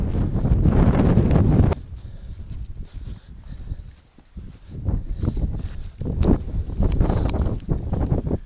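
Gusty wind buffets the microphone on an open hill walk on Kinder Scout, a loud rush at the start, then fluctuating gusts with rustling, no talking.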